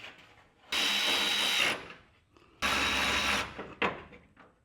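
A power tool cuts through a truck fender bolt on a squarebody 4x4. Two long, loud grinding bursts run about a second each, followed by a brief third burst, with no talk.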